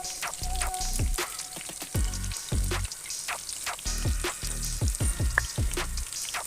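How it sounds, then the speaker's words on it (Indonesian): Tofu frying in hot oil, a constant crackling sizzle with repeated popping bursts and occasional clatter as the pieces are turned, close and fairly loud. "Kita goreng tahu sampai berkulit ya Bunda. Kita balik agar matangnya sempurna ya Bunda."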